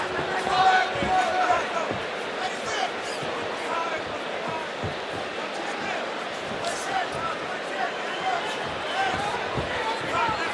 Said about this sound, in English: You hear the crowd getting a little restless.